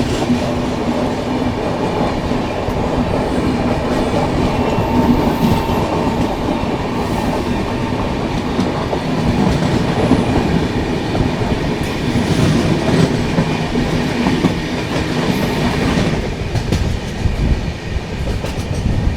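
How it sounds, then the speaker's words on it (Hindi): A passing train runs alongside at a crossing on a curve: continuous loud rumble and wheel clatter with rhythmic clickety-clack and faint squeal, steady throughout with no talk. "बगल से कोई ट्रेन आ रही है क्रॉसिंग के लिए, और कर्व पे ऐसी क्रॉसिंग है बहुत ज़बरदस्त लगती हैं।"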